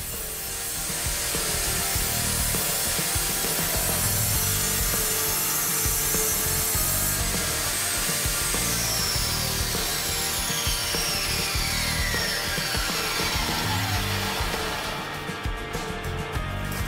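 A handsaw cuts wooden framing pieces to size, a steady continuous rasp of back-and-forth strokes, close and loud throughout with no talking.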